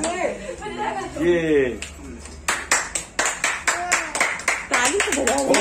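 At a birthday party, people chatter and sing briefly, then a group claps steadily in a quick rhythm, loud and close, with voices continuing over the clapping.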